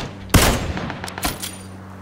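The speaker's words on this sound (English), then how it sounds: "I'm getting shot at" Gunfire in PUBG: one sharp, loud shot bursts out, followed by a few fainter scattered reports, all over a low steady game hum.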